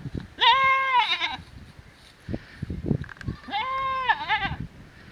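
A goat bleats twice, two loud, wavering cries separated by a pause, close to the microphone, with people talking briefly in between.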